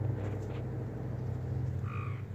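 A frog near a backyard pool croaks once near the end, a short raspy call over a low steady background hum.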